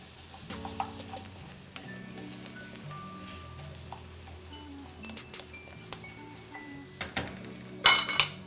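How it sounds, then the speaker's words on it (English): Half a teaspoon of minced garlic sizzling gently in a pan on low heat, a soft steady fry under faint stirring scrapes and a few clinks of utensils, with a louder clatter near the end, no talking. "I'm gonna add in that 1/2 teaspoon of minced garlic"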